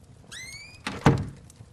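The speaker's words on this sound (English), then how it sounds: "Let me open the door and..." A door opens in the horror video game Call of the Elder Gods, a short rising creak followed by a solid thunk and a louder knock-like thud, close and clear with no talk.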